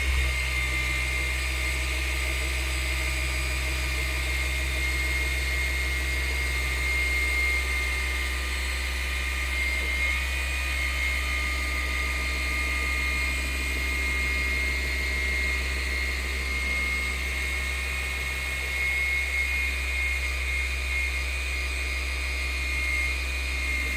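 A machine polisher runs steadily over a car's painted panel, a constant loud whirring drone with a high whine on top, close and uninterrupted with no talking.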